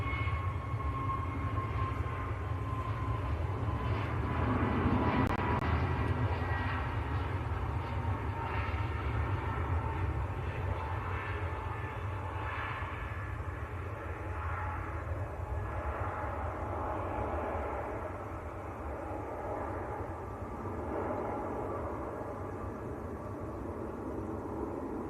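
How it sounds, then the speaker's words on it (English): A Pegasus Airlines Airbus A321neo departs toward Istanbul at Manchester Airport, its engines producing a steady, distant broadband roar with a low rumble and a faint whine that slowly fades over about 25 seconds. "This is Pegasus to Istanbul, an A321 Neo."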